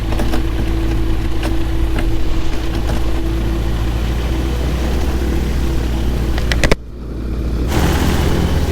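A microlight aircraft taxiing toward the runway with no throttle applied: a steady, loud engine drone with a low hum holds throughout, then briefly drops away with a thump near the end before the drone returns.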